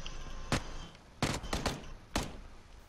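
Four sharp gunshots ring out in PUBG, the video game, one isolated then a quick double and a final shot, each a loud broadband crack over steady low ambient noise with no talking.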